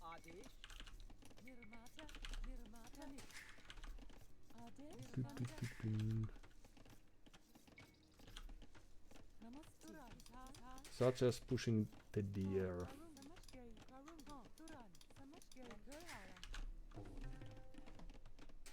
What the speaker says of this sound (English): habits of clicking I have here.